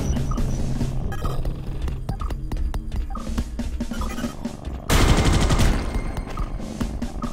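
Sentry guns in the game Space Beast Terror Fright fire in rapid automatic bursts, a steady clatter of gunfire that swells much louder and denser for the last few seconds, with no voices.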